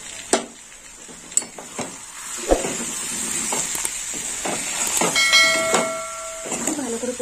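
Carrot and prawn sautéing in a pan with a steady hiss of sizzling oil, punctuated by sharp clinks of a utensil against the pan and a brief high ringing tone partway through.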